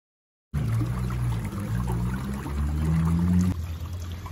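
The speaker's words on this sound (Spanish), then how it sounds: "el agua pasa debajo de San Caralampio y pues es un río subterráneo que pasa debajo de la iglesia" Water from an underground river flowing beneath a church in Comitán, heard as a steady, close pouring trickle that runs continuously without speech.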